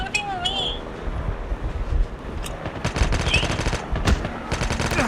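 Rapid bursts of automatic gunfire in a shooter video game, loud and close, rattling in clusters over background game noise with a voice talking over it.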